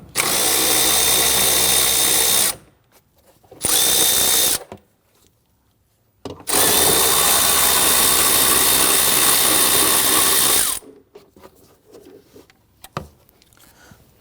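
A power tool works the two 10mm bolts under the radiator support of a 2013-2019 Ford Police Interceptor, sounding in three loud bursts of whirring separated by pauses, then quiet handling noises.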